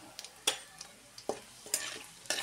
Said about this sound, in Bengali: এর মধ্যে ফোড়ন দিলাম গরম মশলা, গোটা জিরে,